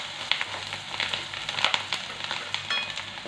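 Garlic paste and coriander leaves fry in oil, a close crackling sizzle with scattered pops and light stirring scrapes throughout.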